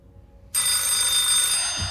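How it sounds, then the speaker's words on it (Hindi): A telephone starts ringing suddenly with a loud, continuous bright electric bell that holds steady for over a second with no voices over it. "चलो भाई, फोन"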